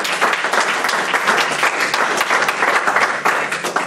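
A church congregation applauding, dense steady clapping from a crowd filling the room, loud and continuous throughout with no talk over it.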